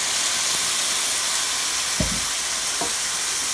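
Sake splashes into a hot pan with chicken, giving a steady sizzling hiss with a couple of brief pops and bursts of steam.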